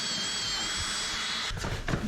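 A power drill with a large bit boring a hole during a DIY jukebox build, a steady high motor whine that breaks into rougher bursts toward the end, close and fairly loud.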